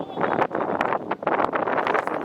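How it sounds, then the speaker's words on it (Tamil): Wind gusts across an outdoor cricket ground during a tournament match, buffeting the microphone in loud, uneven rushes that fill the whole clip. "காத்து பார்த்தீங்கன்னா ஒன் சைடு அடிக்குது, லெக் சைட்லேருந்து ஆஃப் சைடு."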